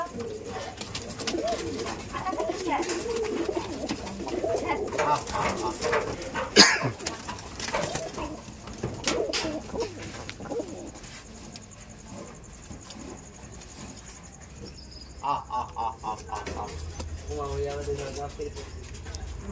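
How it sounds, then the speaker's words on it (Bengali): Rajshahi Giribaz pigeons, big feathered birds perched up high, coo softly and intermittently amid scattered background noise, with people talking nearby. "উপরে বসে আছে বড় বড় ফেদার আলা কবুতর গুলো"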